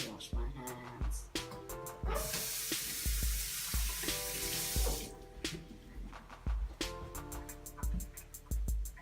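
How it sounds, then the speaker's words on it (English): Hands washed under a running kitchen faucet, a steady close rush of water with clattering and knocks around it, while people talk in a home kitchen during omelette cooking. "Alright, let me wash my hands."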